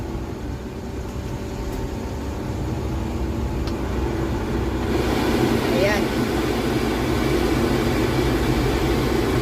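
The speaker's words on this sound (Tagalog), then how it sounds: "So, maririnig natin, napakalakas ng AC." A steady, loud rushing of air from a Suzuki Carry multicab's air-conditioning blower that grows stronger partway through and keeps roaring without a break.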